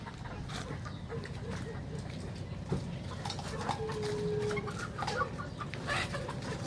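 Chickens cluck and chatter at a moderate distance over a steady farmyard hum, with scattered short calls and brief noises throughout.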